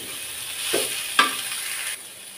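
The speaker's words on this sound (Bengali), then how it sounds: "এইভাবে ঢেকে ঢেকে আমি এখন ভাজি করব।" Red amaranth greens frying with garlic in a pan give a steady close sizzle, broken by a couple of soft scraping stirs and a brief clatter before the hiss drops away near the end.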